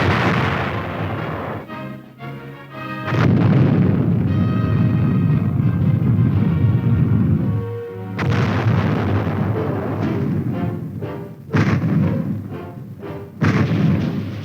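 Heavy artillery fire and explosions from 1950s US Army airborne infantry footage, deep booms and roaring blasts following one another in a dense, loud barrage with brief gaps between volleys.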